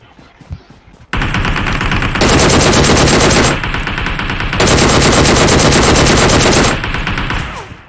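Rapid automatic gunfire in a battle royale video game, reported as a shotgun: two long, loud, dense bursts of close shots, set apart by a brief pause, with a short rattle at the end.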